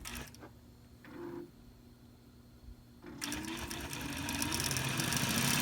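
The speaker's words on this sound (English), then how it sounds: "I'm going to hit sew. And it's going to sew." A long arm quilting machine starts up after a quiet stretch of faint hum, then runs with a fast, steady mechanical chatter of stitching that grows louder toward the end.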